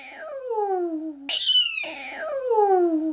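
A cat gives two long, drawn-out meows in quick succession while being bathed, loud and close, the first sliding downward and the second rising sharply before falling away, with no talking.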